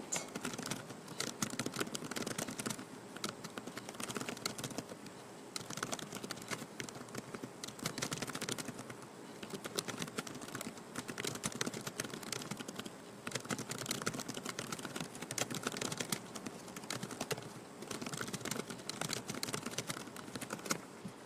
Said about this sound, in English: I was just typing in a little note